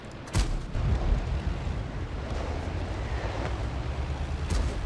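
Heavy booming tank gunfire in World of Tanks, with a couple of sharp blasts over a constant low rumble of engine and battle noise.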